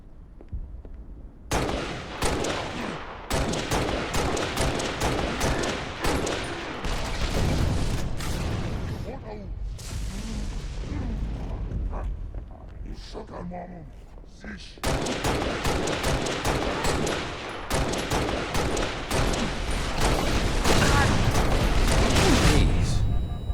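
Jackals or skirmishers fire needle rifles in Halo: Reach on Xbox 360, rapid bursts of loud sharp shots that stop for about a second, resume, ease off midway, then return in heavy volleys to the end.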